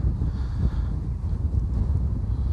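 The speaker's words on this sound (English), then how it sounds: "Wind" Steady wind rushes across an open grassy field on a walk near South Woodham Ferrers, a loud, continuous low buffeting roar against the microphone with no pauses and no voices.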